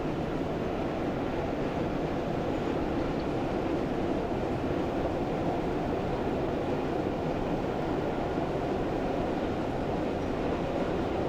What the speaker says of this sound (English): the train's accelerated nicely and we're now doing around 35 miles per hour